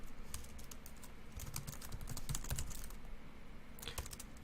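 Quick bursts of typing on a computer keyboard, close and fairly quiet, with clustered key clicks and short pauses and no voices.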